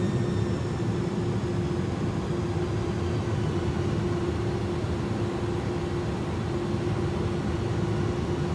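Airbus A300 jet engines under manual throttle in Microsoft Flight Simulator, a steady loud drone with a sustained tonal hum that holds evenly with no talk over it.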